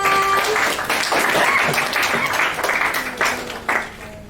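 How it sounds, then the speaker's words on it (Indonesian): Steady applause from a seminar audience, a continuous wash of clapping that fades near the end, with a faint tone and stray voices underneath. "Tepuk tangannya lagi teman-teman"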